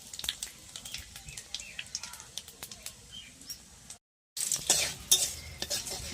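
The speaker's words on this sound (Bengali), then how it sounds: "তেলটা গরম হয়ে গেছে, এবার দেবো 5 ফোড়ন আর শুকনো লঙ্কা, তেজপাতা।" Five-spice, dried chillies and bay leaves sizzling in hot oil over a stove for a cabbage curry, a steady hiss with scattered crackles and utensil taps, a brief silent gap, then a louder burst of sizzling.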